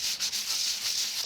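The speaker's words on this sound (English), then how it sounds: "Just using a sanding block, I'm going to take off a bit of the top part here." A sanding block rubs lightly over craft card in a quick circular motion, producing a steady, close, hissing scrape with slight pulsing strokes, alone and fairly quiet.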